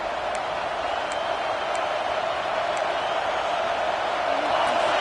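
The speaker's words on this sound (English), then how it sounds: "Listen to this crowd just shaking the girders of this place, trying to help their defense." A stadium crowd at a college football game roars in a steady, dense wash of noise, loud and continuous throughout.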